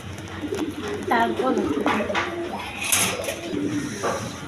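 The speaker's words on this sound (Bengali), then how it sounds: "দর্শকবৃন্দ এইখানে এক পেয়ার রেশার কবুতর আছে, দেখেন কোয়ালিটি সম্পন্ন কবুতর।" Racer pigeons kept for sale coo in steady, throaty warbles close by, overlapping one another continuously against a busy background.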